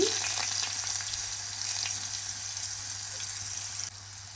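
Fennel powder and fenugreek powder heating in oil in a pan, giving a steady, close sizzling hiss that continues throughout and drops slightly in level near the end.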